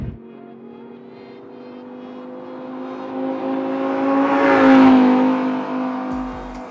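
Engine of a 2015 Lamborghini Huracan LP 610-4 while driving, a smooth tone that swells as the car accelerates and peaks near the fifth second before easing off, with no talk.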